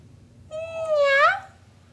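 A person imitates a cat with a single drawn-out meow, rising and then bending in pitch, heard close and clear over a quiet background.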